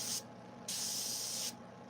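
Airbrush spraying paint onto a chainsaw-carved wooden sculpture, two close bursts of hissing spray separated by a short pause, the second burst longer.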